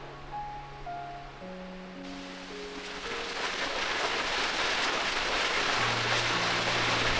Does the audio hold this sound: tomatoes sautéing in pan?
no